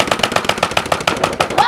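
A BoomCo Rapid Madness toy dart blaster fires in a fast burst, about a dozen sharp, evenly spaced clacking shots in quick succession, loud and close.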